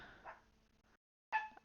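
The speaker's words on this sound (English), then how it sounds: "my dog. Sorry if you hear her barking." A pet dog barking indoors, a couple of short faint yips separated by silence, quiet and somewhat distant.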